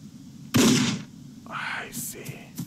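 Gunshots fired at enemies in the dark beat 'em up game Shrouded in Sanity: one loud, sharp blast followed by a short ringing tail, then quieter combat clatter and softer impacts.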